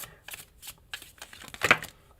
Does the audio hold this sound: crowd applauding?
no